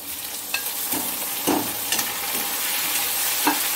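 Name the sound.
tomatoes frying with onions in pan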